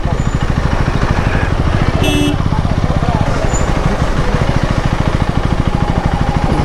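A motorbike engine idles with a fast, steady throb close up at a parking spot near a beach, running without a break under faint outdoor noise.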